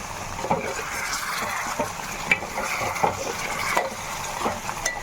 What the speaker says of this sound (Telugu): చికెన్ చూడండి ఎంత బాగా ఉడుకుతుందో